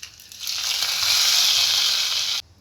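Hot tempering (oggarane) poured into drumstick sambar sets off a loud, steady sizzle and hiss that bursts in, holds for about two seconds, then cuts off abruptly.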